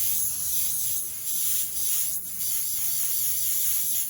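An airbrush spraying paint for freehand script lettering, a steady close hiss that pulses softly with each stroke across four seconds, with no talking.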